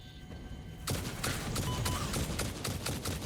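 A rapid-fire weapon in the video game Satisfactory, one that speeds up as it keeps shooting, lets loose a sustained burst of sharp, closely spaced shots after a brief quieter lead-in, fairly loud and without talk.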